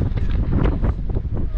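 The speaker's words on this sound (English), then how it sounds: "Hope you can hear me with all the wind" Strong gusts buffet a microphone outdoors near buttes in Yellowstone National Park, a loud, low, continuous rumble with rapid flutters and no pauses.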